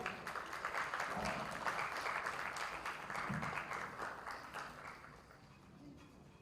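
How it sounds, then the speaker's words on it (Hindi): Applause from an audience at a stage launch event for a television serial, a dense clapping wash that swells early and then gradually fades toward the end, with no speech over it. "जोरदार तालियों में।"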